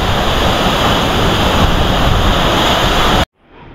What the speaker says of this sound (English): I'm going to share this magnificent waterfall with you